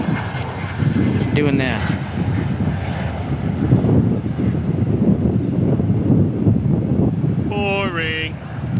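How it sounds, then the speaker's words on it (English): An Embraer E175 regional jet arriving from Houston at Dallas/Fort Worth airport roars steadily throughout, with constant broadband engine noise and some wind buffeting, while a person talks over it. "That's that's an E175 from Houston Intercontinental."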